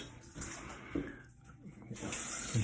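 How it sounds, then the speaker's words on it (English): Water runs from a tap while a hand is rinsed of cut hair, a faint, uneven splash and gush with quiet swells, heard close by in a home setting. "Rinse that off my hand."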